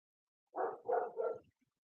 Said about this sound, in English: I'm sorry for the barking, it's my dog.